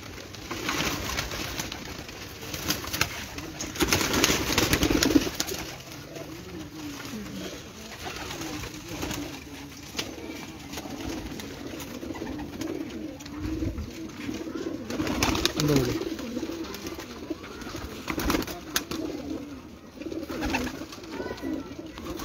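Pigeons, including Teddy and golden breeds kept by a fancier, coo steadily in repeated low rolling calls, moderately close, with brief faint voices and some background noise.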